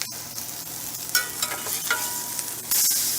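Pork chops sear in a pan with thyme, oregano and rosemary, giving a short burst of close sizzling broken by scrapes and clinks as they are checked, ending in a louder hiss.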